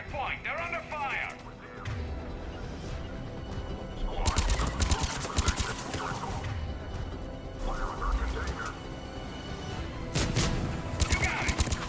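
Gunfire crackles in Mass Effect Legendary Edition, loud bursts of rapid shots in several volleys amid a busy battle din, with voices talking between and over the shooting.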